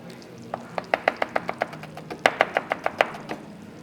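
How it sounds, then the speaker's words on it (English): A knife shaves a red onion into thin julienne strips on a cutting board for a salad, giving about a dozen crisp, evenly spaced chopping taps, close and clear, with a brief pause midway before a second quick run. "So I'm going to shave my red onion."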